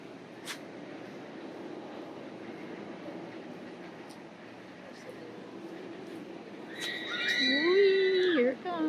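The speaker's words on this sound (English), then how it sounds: "Here comes a train, so let's just stand here." Cheetah Hunt roller coaster train at Busch Gardens approaching and rushing close past near the end, a rising roar with a whining pitch sweep over steady outdoor park ambience.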